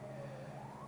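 A steady ambulance siren sounds from outside, its tone slowly rising and falling, moderately distant and unbroken with no talk over it.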